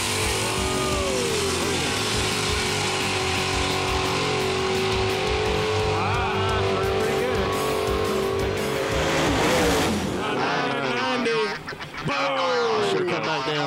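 A loud drag racing vehicle roars continuously through a pass with rising revs and tire squeal, with crowd noise and voices mixed in throughout.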